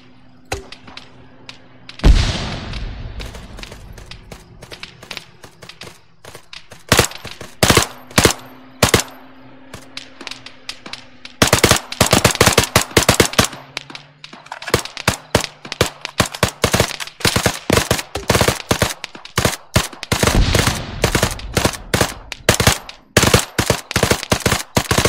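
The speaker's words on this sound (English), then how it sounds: "Open fire on targets of opportunity." ARMA gunfire crackles in sharp, loud single shots and machine-gun bursts, some distant and some close. Rapid volleys cluster in the second half with brief gaps between them.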